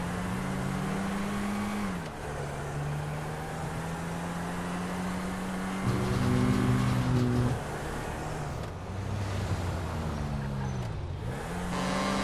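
A car engine in GTA V hums steadily, shifting pitch as it revs up and settles, with a louder surge in the middle and a few dips near the end; no one speaks.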